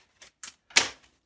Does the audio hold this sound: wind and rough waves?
no